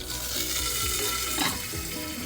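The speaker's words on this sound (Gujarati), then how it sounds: "જ્યારે કઢી પત્તા નાખીએ તેના માટે ઢાંકણું લઈ લઈએ, કેમ કે એકદમ છમ અવાજ આવશે" Curry leaves dropped into hot oil for a pumpkin dish, producing a loud continuous crackling sizzle close by, with a brief surge partway through and no one speaking.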